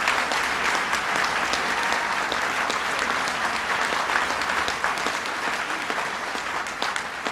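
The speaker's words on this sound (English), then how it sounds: "please give them a big round of applause" An audience at a land conservation event gives a big round of applause, a dense, sustained burst of many hands clapping without pause.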